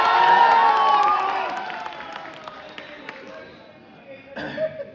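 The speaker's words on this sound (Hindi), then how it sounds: "जोरदार तालियां बजाइए" An audience at a Hindi poetry recital cheers and applauds, a loud crowd roar at the start that gradually tapers off into lighter clapping and murmurs, with a brief burst near the end.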